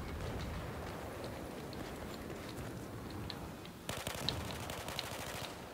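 F2000 assault rifle fire in Battlefield 4, a fairly quiet stream of rapid automatic bursts that turns sharper and louder toward the end, no talking.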